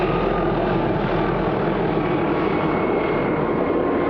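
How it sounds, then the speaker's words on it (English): A helicopter passes low overhead near a mountain camp during a goat hunting trip, its engine and rotor noise a loud, steady roar that fills the whole stretch without a break. "it's always interesting when you get buzzed by a chopper"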